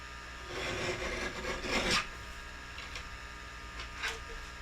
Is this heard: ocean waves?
no